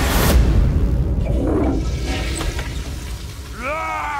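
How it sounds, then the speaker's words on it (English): A toilet flush in the South Park: The Fractured But Whole video game, a loud watery whoosh that gradually drains away, followed at the end by a short rising whistle-like sound. "I just flushed one little shit."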